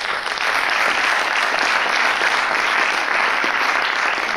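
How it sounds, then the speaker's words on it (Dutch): Loud, sustained audience applause for a political party's lead candidate at a local candidates' debate, continuous and uniform with no talk on top. "Mag ik een applaus voor de lijsttrekker van de PvdA,"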